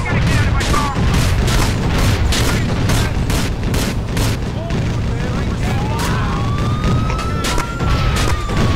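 A police car siren in GTA 4 multiplayer wails, rising and sweeping over a loud, busy mix of bangs and booming noise, with voices partly under it.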